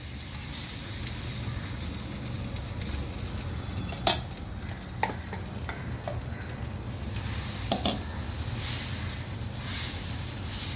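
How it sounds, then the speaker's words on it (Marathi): Water splashed onto a hot iron griddle while making jowar (sorghum) dosa hisses in a steady, loud sizzle, with a few sharp clinks of utensils on the pan. "परत आपण तव्याचं टेम्परेचर ॲडजस्ट करायला पाण्याचा सक्का मारतो आहे"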